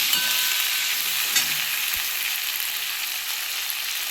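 Potato and tomato frying in a pan with a sprinkle of turmeric, giving a steady, close sizzle with a few faint stirring knocks and no talking.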